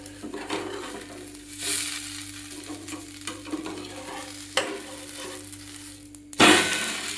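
A flipped uttapam frying on a hot pan: a soft, steady sizzle under a low hum, broken by a few spatula scrapes and light metallic knocks, with a louder scrape near the end.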